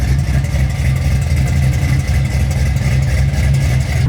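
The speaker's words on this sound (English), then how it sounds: "The other thing I'm like digging on this, the exhaust sound, you know how it is, bro. You're standing outside this car," Custom 1967 Camaro making over 600 hp rumbles loudly through its exhaust, a steady deep idle-to-light-rev drone held close and constant with no talking.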